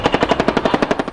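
Rapid automatic cannon fire from a Cobra attack helicopter, about a dozen loud, evenly spaced shots in a fast, steady burst.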